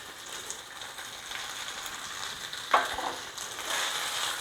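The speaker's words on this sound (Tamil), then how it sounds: "பொறுமையாக வதக்கணும் இந்த தேங்காய் பூவை. ஸ்லோ ஃப்ளேமில் வச்சு ஒரு 8 to 10 நிமிஷம் கூட வதக்கலாம்." Grated coconut frying slowly in a pan on low flame, a soft continuous crackle and sizzle with light stirring scrapes and one brief clack partway through.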